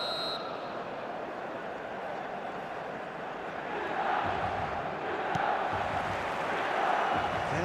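A large stadium crowd roars in an eFootball match, a dense, sustained wash of massed voices and chanting that swells slightly louder midway and stays constant to the end.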